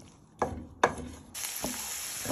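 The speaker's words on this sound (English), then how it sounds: "So we're just finishing off frying our onion, garlic and ginger." Onion, garlic and ginger fry in a pan, a couple of sharp utensil knocks giving way to a steady, close sizzle with light stirring.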